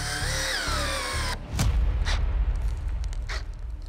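Cordless drill-drivers rev with a loud, shifting whine for over a second before burning out, then cut off into rough rumbling and a few sharp knocks and bangs.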